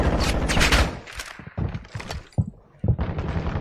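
Video game gunfire in quick bursts of close, loud shots, stopping and starting in uneven rapid volleys.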